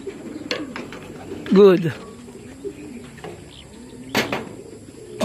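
Pigeons coo inside a truck, with a couple of clear, close throaty coos among softer bird sounds, and a person speaks briefly.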